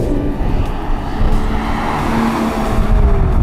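An Aston Martin DB GT engine drones steadily while the car is driven, a loud, constant rumble with road and wind noise throughout and no talking.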